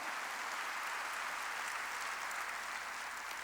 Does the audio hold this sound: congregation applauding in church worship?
yes